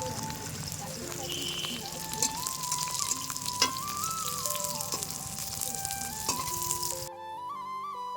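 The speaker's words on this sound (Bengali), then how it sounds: "আর করব 5 প্রকারের ভাজা। চলো ভাজাগুলো করে নিয়ে দেখতে থাকো।" Five kinds of Bengali fritters (bhaja) fry in hot oil, a steady close sizzle and crackle under background music and faint voices, cutting off abruptly near the end.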